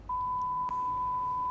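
A single steady censor beep, a pure continuous tone held for over a second to mask a spoken word, loud and alone.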